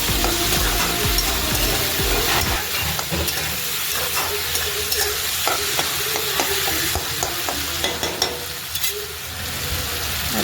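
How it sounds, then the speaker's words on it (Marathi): Garlic and ginger are stirred into softened, cooked tomatoes in a pan for a chicken masala gravy, with loud steady sizzling, hissing steam and repeated scraping strokes of a spoon, no voices. "त्याला पण थोडंसं हलवून घेते मस्तपैकी."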